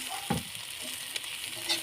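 Potatoes sizzle faintly in a skillet, a soft continuous hiss with a couple of brief scraping stirs, quiet and close.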